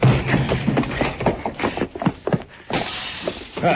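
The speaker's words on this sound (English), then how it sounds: "They crashed out through the front window, Mr. Dillon." Front window glass shatters as men crash out through it in an old-time Western radio drama, a burst of breaking and scattered debris with continued clattering and scuffling over several seconds.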